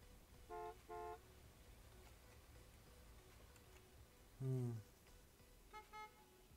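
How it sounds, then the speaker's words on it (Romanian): A car horn in a video game honks in a few short beeps, two toots, then a longer blare, then two quick ones, faint against a steady low background hum. "Ce? De ce se claxonează?"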